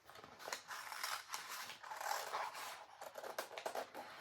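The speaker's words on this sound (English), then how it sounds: "So I'm going to just cut out a few of these butterflies." Scissors cut through paper to trim out small butterfly shapes, a close, quiet series of crisp snips and rustles in an irregular rhythm.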